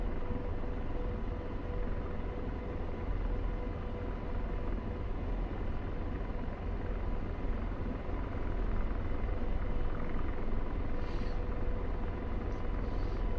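In the DCS flight simulator, an AH-64 Apache attack helicopter makes a constant, dense rotor and turbine roar that holds at an even loudness throughout, with no speech over it.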